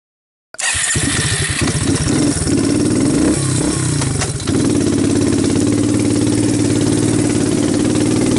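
A Quadrunner 250 ATV engine runs hard at full throttle, a loud, continuous buzzing drone that kicks in abruptly after a brief silence and holds steady with a slight shift in pitch midway.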